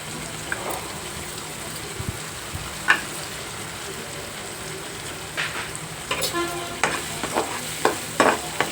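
Fresh ginger-garlic paste fries in oil for a cashew and drumstick masala curry. A soft, low sizzle grows busier in the second half as quick, repeated spatula scrapes and stirring clatter come in, with no voices.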